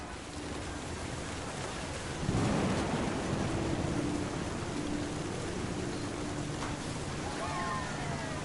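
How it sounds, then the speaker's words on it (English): Thunder in the video game What Remains of Edith Finch swells into a long, heavy rumble about two seconds in, then rolls on as a steady roar with a faint tonal hum beneath. "The thunder sounded much too close and full of angry power."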